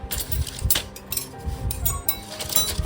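Metal spoons clinking and rattling against each other while being packed into a bag, a steady run of close, bright jingles and taps with no talking.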